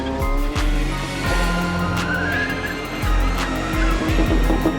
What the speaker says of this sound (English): Shooting in the middle of cars that are drifting dangerously is one hell of a risk